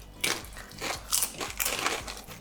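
Crunching on sweet Hawaiian style onion snacks, a series of close, crisp bites and crackles in quick uneven bursts, fairly quiet, with no talking.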